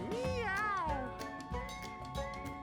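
A cat meows several times in the video game Mewgenics, drawn-out, wavering cries, loud and close, with a few short gaps between calls.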